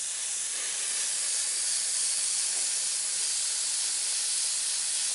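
An airbrush sprays paint steadily onto a T-shirt while finishing a stenciled border, a continuous close, even hiss that barely varies in level, with no voices.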